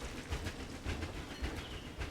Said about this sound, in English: Look at the little train